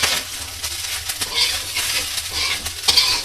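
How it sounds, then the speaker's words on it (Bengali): Fried rice and hilsa fish reheat in a pan, with a soft sizzle under repeated scraping stirs and light clinks of utensil on metal, all close. "গরম করে নিচ্ছি ফ্রাইড রাইসটা। মাছটা দিয়ে দিলাম যাতে গরম হয়ে যায়।"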